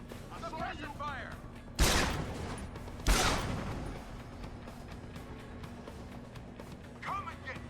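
Gunfire in the action game Deus Ex: Human Revolution, two sharp, loud bursts about a second apart, each trailing off into echoing reverb, with faint electronic chirps and distant voices between them.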